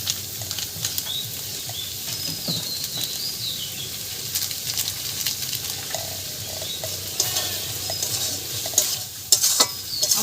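Egg curry frying in a pan with biryani masala stirred through, a steady close sizzle with scraping spoon strokes and a few sharper clinks near the end.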